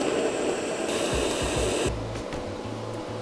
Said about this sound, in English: that's possibly the worst weld that I've ever done in my life, but it's really strong